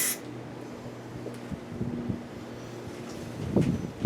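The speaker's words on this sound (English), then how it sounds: "The wind's blowing that way." Outdoor wind buffets the microphone in a low, steady rumble during go-kart restoration and priming work, with a faint mechanical hum underneath and a brief louder gust near the end.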